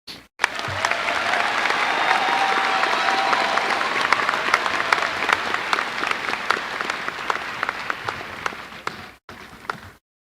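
The audience at a 2022 high school graduation ceremony breaks into sustained applause, a dense roar of many clapping hands with sharp individual claps standing out, steady for about nine seconds before ending abruptly.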